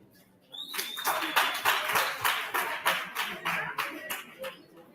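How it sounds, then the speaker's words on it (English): An audience at a regional adolescent health conference breaks into applause: dense, fairly loud clapping that starts suddenly and carries on steadily before tapering slightly. "I think they deserve a round of applause."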